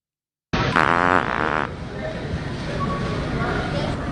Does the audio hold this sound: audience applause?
no